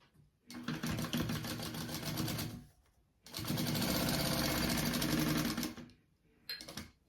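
A sewing machine sews pieces of a crossbody bag together in three close bursts of fast, rattling stitching separated by short pauses, the middle run the longest.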